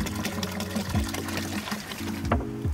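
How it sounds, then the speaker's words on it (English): Four gallons of water pour into a mixing container for a fluid station, making a steady, loud rushing splash with a sloshing, gurgling texture throughout. "then you're gonna pour in your next 4 gallons of water"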